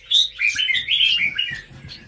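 Young birds on a bird farm chirp in a quick, busy run of high tweets, close and fairly loud, with faint low knocks and shuffling underneath.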